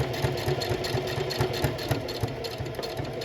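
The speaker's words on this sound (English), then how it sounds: "Okay, and then I'm gonna continue sewing." A domestic sewing machine runs slowly and steadily, stitching fabric for a slouchy tote bag. The close, even motor hum carries a rapid rhythmic needle patter throughout, with no talk.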